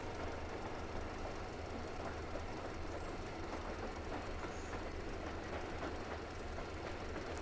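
An electric railcar rolls along the tracks in the video game Metro Exodus, with a continuous low rumble and faint rhythmic clickety-clack of the wheels. The sound is soft and steady, and no one speaks.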